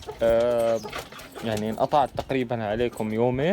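Domestic pigeons coo softly behind someone speaking Arabic close to the microphone, their murmuring calls mostly masked by his voice.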